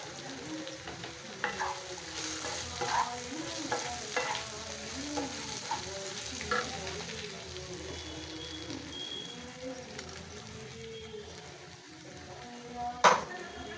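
Unripe banana sukka being stirred and fried dry in a pan, with scraping spatula strokes over a steady soft sizzle and an occasional louder clink near the end.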